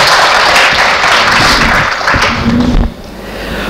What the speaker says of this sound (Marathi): आपणच एकदा टाळ्या वाजवून जोरदार ताप द्या.